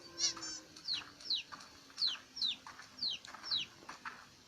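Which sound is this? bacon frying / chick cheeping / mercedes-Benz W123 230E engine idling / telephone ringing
chick cheeping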